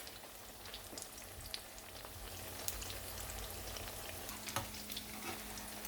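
Potato tikki patties frying in a pan, giving a soft, even sizzle with scattered crackling pops and faint stirring, fairly quiet throughout and without speech.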